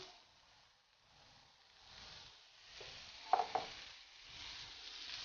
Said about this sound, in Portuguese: Olha só, a cebola está dourando